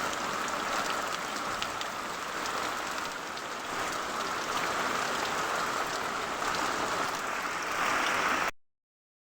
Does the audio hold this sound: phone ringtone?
no